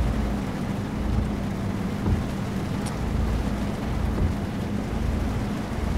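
Rain in the Euro Truck Simulator 2 video game falls as a steady, even hiss over the low drone of the truck, continuous throughout with no talking.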